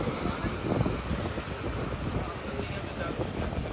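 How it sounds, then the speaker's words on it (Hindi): Sea waves on a beach in Barbados, a loud, continuous rushing wash of surf mixed with strong wind buffeting the microphone, steady throughout. "देखिए बहुत ही बेहतरीन और शानदार समुंदर की आवाज़ें, लहरें"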